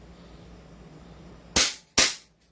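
An airsoft gun fires two sharp, close shots about half a second apart, each a crisp crack with a brief decay, after a quiet stretch of low background hum.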